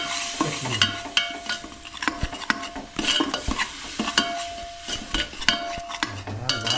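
Masala with Kolhapuri chilli frying in a pan for a rustic goat-head curry, a steady sizzle broken by repeated scraping stirs and clinks of a metal spoon against the pan, close and without talk.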